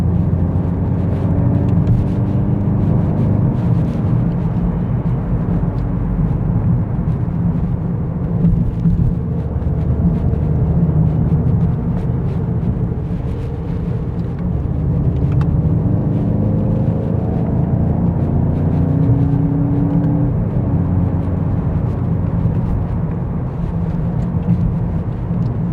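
Sports car driving on a road near the Oman border from Dubai, a loud, continuous low engine and road roar that holds steady throughout, with rising and falling engine tones and no voices.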